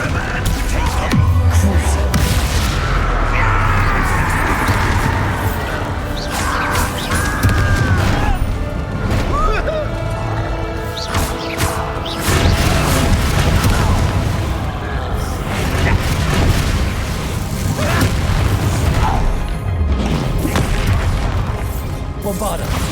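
The Bombarda explosion spell in the Hogwarts Legacy video game, with loud booming blasts and crashing impacts over a dense, continuous game soundscape, and voices talking throughout.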